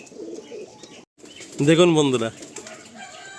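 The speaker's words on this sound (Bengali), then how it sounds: "এটা কিন্তু কামাগার পায়রা" Kamagar pigeons give a brief, throaty coo in the middle, close by, framed by someone talking before and after.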